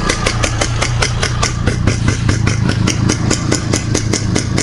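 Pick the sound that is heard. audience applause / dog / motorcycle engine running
motorcycle engine running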